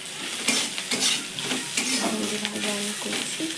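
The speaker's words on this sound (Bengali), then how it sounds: "আর এখন আমি ভেন্ডি ভাজা করছি" Okra frying in a pan, a soft steady sizzle with scraping stirring strokes and light clinks of a utensil against the pan, fairly quiet and close.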